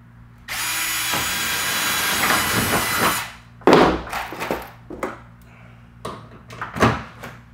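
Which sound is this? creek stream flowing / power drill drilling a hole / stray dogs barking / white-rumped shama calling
power drill drilling a hole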